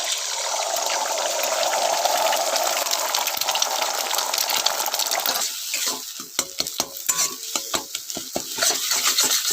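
Salted, lightly beaten egg hits hot oil in a pan, giving a loud, steady frying hiss that gives way to crackling and a few sharp clinks of a utensil against the pan.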